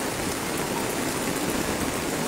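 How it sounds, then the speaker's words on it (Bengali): Heavy rain pours steadily in Thanchi, Bandarban, during a long spell of monsoon downpour, making a dense, even roar of water with no pauses and no voices. "অনেক বৃষ্টি হচ্ছে আমাদের থানচিতে"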